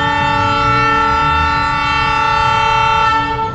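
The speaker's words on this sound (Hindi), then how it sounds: "आपको ट्रेन की आवाज़ आ गई होगी, अभी एक ट्रेन आई है यहाँ।" A train arrives at Palia Kalan railway station, its horn blaring loud and close in one sustained, steady blast over a low rumble that eases off near the end.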